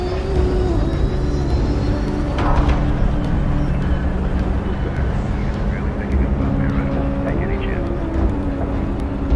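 The main drive engine starting in the video game Homeworld: Deserts of Kharak, a loud, steady, deep mechanical roar that holds throughout, with radio-style voices talking over it.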